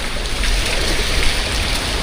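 Heavy rain pours down at sea in a steady, dense wash of noise with no gaps, loud and close, with no voices heard.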